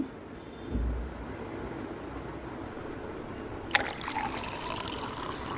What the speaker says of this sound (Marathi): आता आपण याच्यात ॲड करूया पाणी